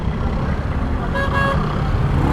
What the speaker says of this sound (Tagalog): Ang hina ng busina ko.